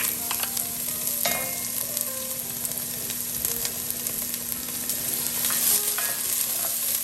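Onion sizzling in warmed oil inside a 5.5 quart Le Creuset pot for fish stew, a steady loud frying hiss with occasional stirring scrapes, alone without talk.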